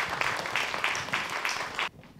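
Audience applause greeting speakers arriving at an architecture lecture, a steady wash of many hands clapping at moderate level that cuts off abruptly near the end.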